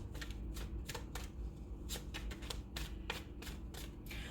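Tarot cards are shuffled and drawn in a quiet room, a rapid series of soft riffling bursts repeating in an uneven rhythm, close and faint.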